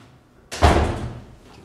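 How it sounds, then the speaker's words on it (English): An indoor door swung shut with a single solid thud and a short boomy decay, loud and close, following a moment of near silence. "Can close the door, please."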